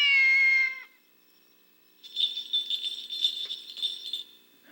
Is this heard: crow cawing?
no